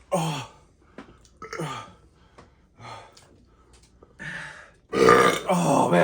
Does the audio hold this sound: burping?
yes